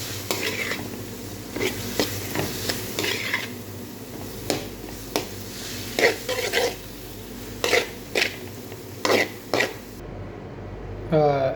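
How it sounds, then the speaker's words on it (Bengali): Prawn noodles being stirred and tossed with spices in a sizzling pan, repeated sharp scrapes and clanks of the utensil over a steady frying hiss, close and fairly loud. "মশলাটা হয়ে গেছে আমার এখন নুডলসটা ডেলে দিলাম ভালো করে মেরে নেব"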